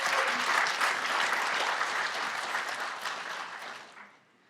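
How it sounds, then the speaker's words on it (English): A conference audience in Kyiv applauds at a MageCONF Magento event: a broad, steady roar of many hands clapping that holds for several seconds, then fades out near the end. "So again, applause to us."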